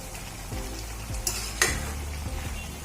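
Grated carrots for gajar halwa cook uncovered in a pan over high gas, giving a steady close sizzle with a few scraping stirs and a sharp clatter near the middle, and no voices.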